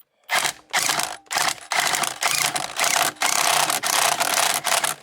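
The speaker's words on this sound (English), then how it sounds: "I have a great impact gun from Matco Tools. I'm going to go ahead and apply it right here. And I'm going to go ahead and tighten it down." A Matco Tools impact gun tightens a steering wheel bolt on a Hellcat Challenger, firing in a rapid series of loud, rattling bursts separated by short pauses, with no talking.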